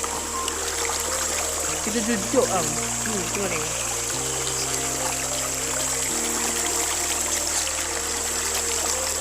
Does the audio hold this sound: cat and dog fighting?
no